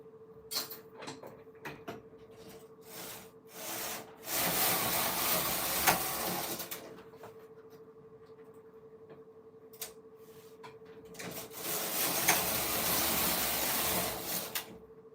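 A Silver Reed knitting machine working a Jacquard hat, with repeated sliding carriage passes that build into long hissing, clattering sweeps separated by quieter ticking and clicks, set against a steady faint hum.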